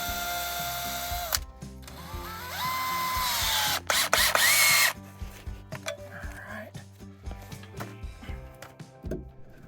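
A power drill drives 8-inch exterior timber screws into 4x4 post cross members in a cabin foundation, whining loud and close in one sustained burst with a pitch shift, then stopping, followed by scattered knocks and scraping handling noises.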